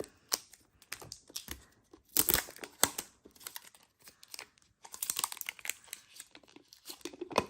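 Danone Süprix surprise toy packet being torn open, with close crinkling and crackling plastic coming in irregular bursts, the loudest rustles near the middle and again toward the end.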